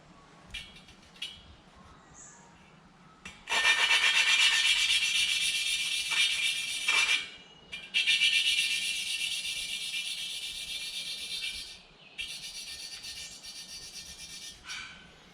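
An engine valve being lapped into its cylinder-head seat during a Polaris 300 Sportsman/Hawkeye rebuild, heard as a loud, coarse rasping grind in long bursts with short pauses, easing slightly toward the end.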